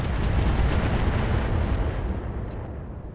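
Weapons fire from BattleTech mechs in the Roguetech mod, a heavy, rumbling barrage of booms that blurs into a loud continuous roar and eases off slightly toward the end.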